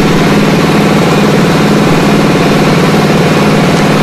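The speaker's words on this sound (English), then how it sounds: "This is a 22 horsepower diesel engine" A 22 horsepower diesel engine powering a wood-grass pellet mill runs steadily at close range, a loud, continuous mechanical drone with a fast, even throb and no talking.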